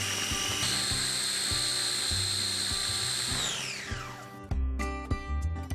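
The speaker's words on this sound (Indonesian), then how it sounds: "Dan langsung deh kita blend sampai halus." A kitchen blender purées paprika and other ingredients for a coconut fried shrimp dish with a loud, steady high-pitched whir. The motor winds down near the end, leaving a few clunks and rattles.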